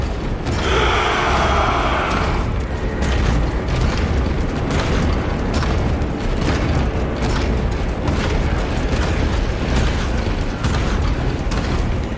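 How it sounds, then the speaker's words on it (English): Massed gunfire and booming blasts from forces opening fire in a Space Marine 2 battle, a loud, continuous barrage of overlapping bursts and mechanical clatter that rolls on without letting up. "All forces, fire at will!"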